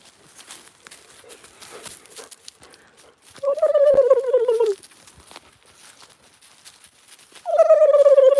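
Two loud, rapid, rattling turkey gobbles, roughly four seconds apart, rising over soft rustling and faint background noise.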